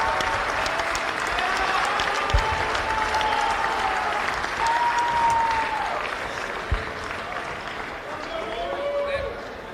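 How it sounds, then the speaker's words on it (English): College basketball arena crowd applauding an AP second team All-American player, a loud, continuous roar of clapping and cheering with occasional whistles and thumps, sustained for the full stretch. "Fans, join me in a round of applause for AP second team All-American"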